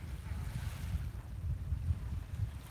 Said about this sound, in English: So you cannot hear me because of the wind.